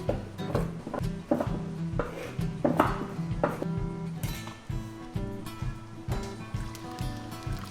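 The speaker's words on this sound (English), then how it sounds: "I'm just going to chop them" Slivered almonds being chopped with a knife on a board, a rapid series of close, firm taps in uneven rhythm, with no talk.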